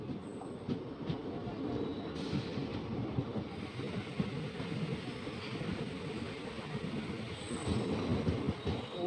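A train rumbles along the tracks nearby on the Pamban sea bridge, a continuous low clattering roar of wheels and carriages with faint squeals, steady throughout with no speech.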